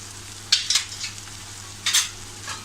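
Cumin, coriander and garam masala powders sautéed and stirred in a pan on low flame for a peas curry, soft steady sizzle with a few scraping stirs of a spoon, close and quiet.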